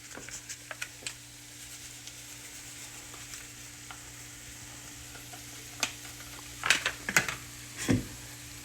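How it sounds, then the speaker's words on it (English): Peppers and onions sizzle in a pan as fajita seasoning is added, giving a soft steady frying hiss, with a few scraping stirs and clatters of the utensil near the end. "Now I'm going to add some of this fajita seasoning."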